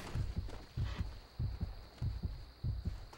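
A steady heartbeat sound effect pulses in paired thumps, lub-dub about five times in a row, low and close under a faint constant hum, with no voices.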